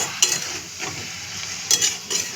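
Chicken pieces frying in a pan without chilli powder, giving a steady broadband sizzle with a few sharper stirring scrapes and spatters, close and moderately loud, no voices.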